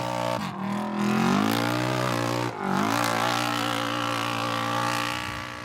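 A Polaris side-by-side rally car at the Atlas Copco Gold 400 drives past with its engine revving and droning, pitch rising and dipping briefly before it holds a loud, steady roar.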